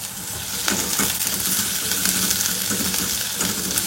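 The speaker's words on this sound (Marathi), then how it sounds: "आता मी ह्याच्यामध्ये लसूण घालणार आहे। त्याच्यानंतर मी काही आल्याचे तुकडे घालणार आहे।" Garlic and ginger pieces frying in a hot pan, a steady loud sizzle and crackle running throughout with a few brief spatter bursts, no voices.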